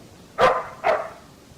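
A dog barks twice in quick succession, two short, sharp, moderately loud barks about half a second apart against a quiet background.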